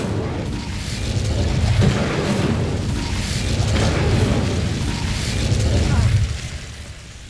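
An Incendio fire spell in the video game Hogwarts Legacy erupts with loud rolling booms and a steady roaring blast of flame, swelling and receding over several seconds, close and heavy.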